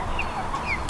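Chickens cluck softly nearby in short, quick calls over a low background rumble.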